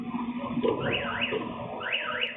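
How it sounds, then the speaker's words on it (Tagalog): An SUV's car alarm wails in the distance with a rising and falling electronic tone, repeating in waves over a low background rumble, set off by theft of a foglight part on a Manila street. "agad tumunog ang alarm ng SUV"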